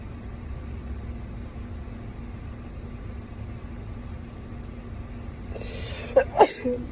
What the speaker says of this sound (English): Oh my god, I can't stop sneezing.